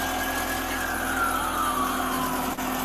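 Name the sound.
police car siren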